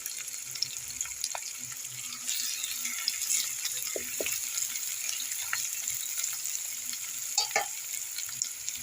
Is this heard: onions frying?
yes